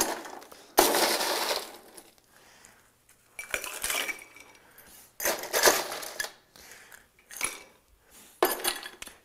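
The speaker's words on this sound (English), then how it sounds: "Now let's add the ice." Ice cubes being added to a glass for a stirred cocktail, clattering in several separate loud bursts of rattling, clinking cubes with quiet gaps between them.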